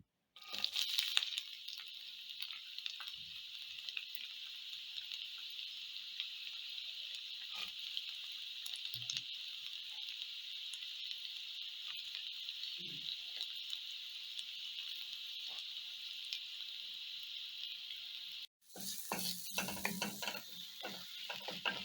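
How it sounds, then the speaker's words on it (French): Onions sizzle steadily in hot oil, a continuous loud frying hiss with occasional stirring scrapes, briefly cut off near the end before resuming. "On vérifie si l'huile est chaude. Nous allons mettre nos oignons."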